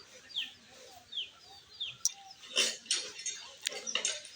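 Chickens on a family farm peck at straw, giving soft scattered clucks and chirpy calls that are close and fairly quiet, with rustling and light clatter in the second half.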